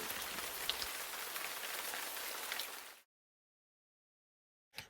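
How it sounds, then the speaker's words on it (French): Steady rain pattering densely on a surface for about three seconds, broadband and even, then cutting off abruptly to silence before a brief burst of rain returns at the very end. "Quand il pleut, les gouttes d'eau tombent des nuages."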